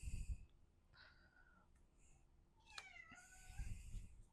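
A house cat meows a few times in drawn-out, wavering calls mixed with snuffly breathing, close and alone with no talking.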